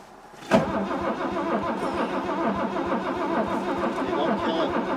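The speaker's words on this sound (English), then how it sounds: "let's crank it over, foot on the clutch" A 1973 MK1 Ford Capri engine cranks over on a cold start, a sudden onset followed by the steady, rhythmic chug of the starter turning the motor without catching.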